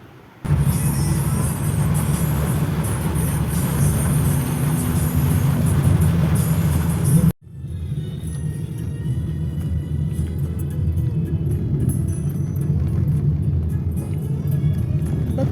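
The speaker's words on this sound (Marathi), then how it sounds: "आम्ही कॅबमध्येच होतो आणि भरपूर पाऊस येतो आहे बाहेर" Cab interior in heavy rain through city traffic, with a steady loud rumble of the vehicle and hiss of rain throughout, a brief sharp cut partway then the same engine and road noise continuing.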